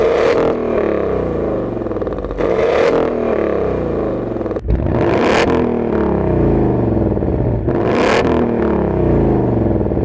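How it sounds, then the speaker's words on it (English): An automatic Ford Mustang with a quad exhaust idles with a loud, deep rumble, blipped into four quick revving surges spaced a few seconds apart, close up and with no talking. "the quad exhaust back here, which, oh, they sound pretty good"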